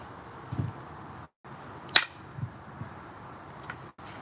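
A sharp, single click cracks out as a tool strikes a ridge on a flint flake during knapping in Oklahoma, with faint soft taps before and after it against a quiet background.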